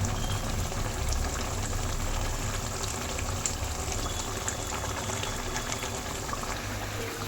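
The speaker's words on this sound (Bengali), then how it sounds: "মাছ দেওয়ার পরে যেরকম টকবক করে ফুটছে দেখুন।" Tomato fish curry gravy boiling hard in a pan after the fish goes in, a steady close bubbling and gurgling hiss with no break.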